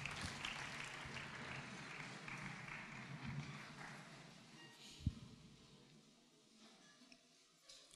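A church congregation applauds during a worship service, a steady wash of clapping that fills the room and slowly thins toward the end, with one sharp knock partway through.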